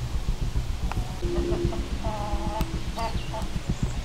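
Chickens on a neglected, rubbish-strewn farm clucking in short repeated bursts and squawks, close and fairly loud over a low background rumble.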